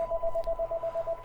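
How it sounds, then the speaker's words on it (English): A telephone rings with a rapid, steady electronic pulsing tone, moderately quiet and without speech. "can we get that phone out of here?"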